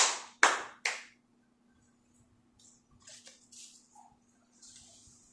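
A class of children gives three sharp, evenly spaced claps in unison for a group, followed by faint scattered rustling and quiet room noise.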